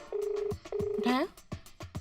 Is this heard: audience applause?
no